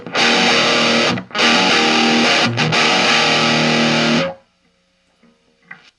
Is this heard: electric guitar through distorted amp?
yes